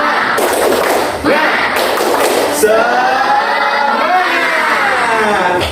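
Schoolchildren perform the Indonesian spirit clap (tepuk semangat) in a classroom, with a few loud, sharp group claps followed by a sustained chanted shout from the class.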